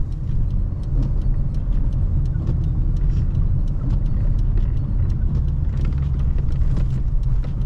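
A car crawling along a rough, bumpy road covered in snow, with a loud, steady engine and tyre rumble and repeated sharp knocks and rattles from the bumps.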